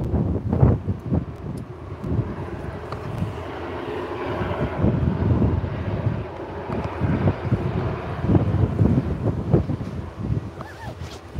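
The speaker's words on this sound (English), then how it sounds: "Here we go, EasyJet lining up." EasyJet airliner lining up for takeoff at Liverpool Airport, a low engine rumble heard from outdoors, mixed with gusty wind buffeting the microphone and rising and falling through the stretch.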